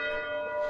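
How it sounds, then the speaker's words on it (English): A single sustained toll of the town bell in Kelso's square striking nine o'clock, a ringing metallic hum with rich overtones, fairly faint and distant. "Oh, there's the bell. It's 9 AM."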